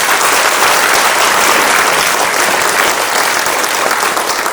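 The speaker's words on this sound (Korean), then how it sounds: "잘하시라고 박수 한번 부탁드리겠습니다." Sustained, loud applause from residents gathered at an apartment redevelopment briefing meeting, dense steady clapping filling the room for several seconds without pause.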